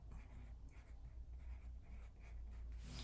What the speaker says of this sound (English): underneath here, I'm going to write favorite subject.